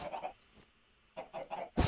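Minecraft chickens give a few short, soft clucks in quick bursts, with a louder one at the end, set against near-silence.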